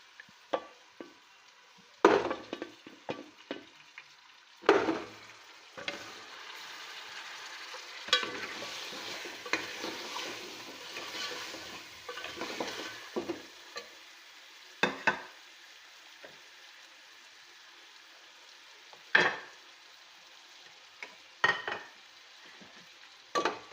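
Beef marrow bones fry with onions in a pot for nalli nihari, a soft sizzle broken by repeated sharp spoon clanks and scraping stirs against the metal, close by and without talk.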